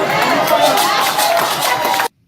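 An audience claps steadily, a dense loud wash of applause mixed with crowd chatter that cuts off abruptly.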